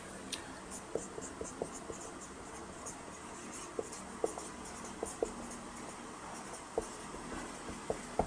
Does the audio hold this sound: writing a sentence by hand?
yes